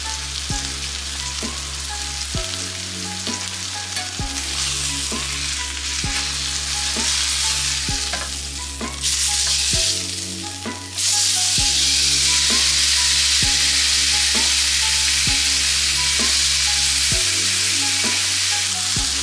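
A thick sirloin Chaliapin steak fries in a hot pan, a loud, continuous close sizzle with a regular low pulsing beneath, growing brighter and fuller in the second half.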